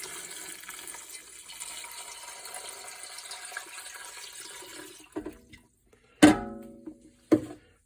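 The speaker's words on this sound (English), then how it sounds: "So here we go, our first jug of water." A jug of water poured into a canning pot for water-bath canning bone broth: a steady splashing trickle for several seconds, then a few sharp knocks and thuds near the end.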